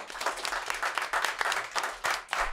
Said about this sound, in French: encore une fois, on peut applaudir vous Bouvette.